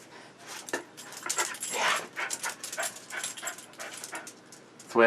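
A dog whimpers and yips in short, uneven bursts at close range, with a sharper bark right at the end and faint human voice sounds in between.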